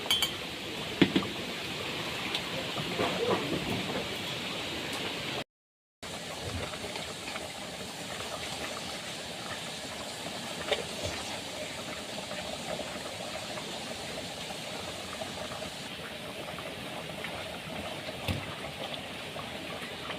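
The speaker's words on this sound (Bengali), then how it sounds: "বলক চলে আসছে। এর মধ্যে দিয়ে দেবো এখন পাতি, চা পাতি।" Ginger tea simmers in a pot on the stove with a continuous bubbling, hissing boil and occasional faint clinks of utensils, steady and close throughout with no voices.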